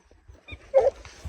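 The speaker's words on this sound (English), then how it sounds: "Livestock guardian dog." A livestock guardian dog puppy at feeding time on a farm rescue lets out a single short yip or whimper amid quiet background shuffling.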